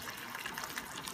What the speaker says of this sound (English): So in goes more water.